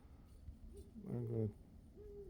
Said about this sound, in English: There's 2 giant owls on the top of my neighbor's roof.